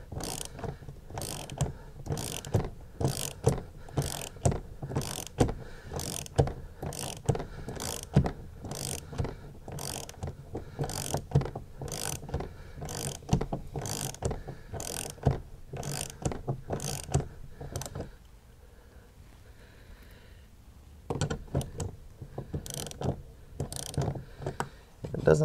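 Quick, steady ratchet clicks ring out in bursts as a hand ratchet backs out 10 mm bolts inside a 2019+ RAM 1500 truck door, close and crisp, with a short quiet pause before the clicking resumes.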